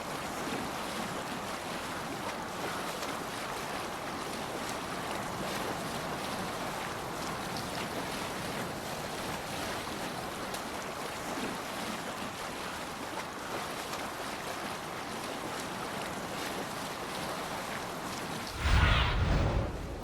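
Sailing a longship at sea in Assassin's Creed Valhalla, a steady wash of waves and wind roaring over the hull without pause, ending in a short louder swell.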